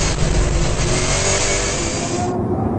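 A sports sedan race car at Oran Park roars past loud and close, its V8 engine revving hard for a few seconds before cutting off abruptly.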